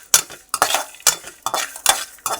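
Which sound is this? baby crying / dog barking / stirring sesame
stirring sesame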